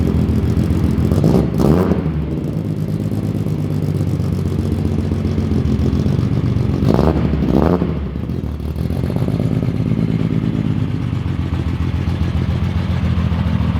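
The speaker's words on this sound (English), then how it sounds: "just that exhaust makes me so happy every single time I hear it" A Datsun car engine rumbles steadily while driving, with two throaty revving swells rising and falling through the exhaust.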